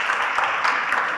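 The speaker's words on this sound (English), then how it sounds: "Give them another round of applause, please." An audience claps together at a design-thinking workshop, a steady dense wash of applause sustained evenly through the whole moment with no pause.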